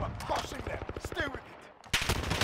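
Rapid automatic gunfire in the video game Call of Duty: Modern Warfare sounds as a dense rattle of bursts with a short pause before another burst. A voice can be heard during the shooting.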